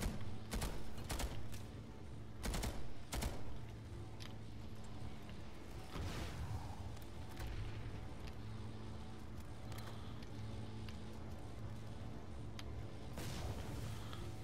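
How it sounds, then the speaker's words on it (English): Gunfire in the Planetside 2 video game comes in sharp, repeated bursts of shots at moderate distance, mixed with vehicle rumble and mechanical battle noise, with no talk. "Got gunfire coming in, I think."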